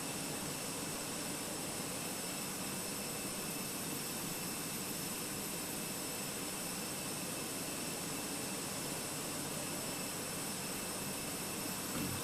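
Jet airliner engines in a flight simulator game whine steadily while the aircraft taxis toward the runway, a continuous, even roar with high tonal hums held throughout and no voices.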